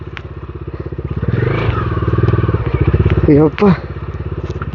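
A motorcycle bounces along a rough off-road track, its engine droning steadily with clattering jolts from the rough ground. Voices talk over it close by throughout.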